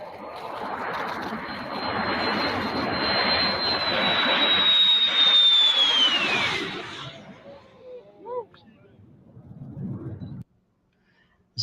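An F-4 fighter jet, fitted with new jet engines, roars loudly overhead with a rising whine that swells, peaks, and then fades away, leaving quieter background sounds and a few voices.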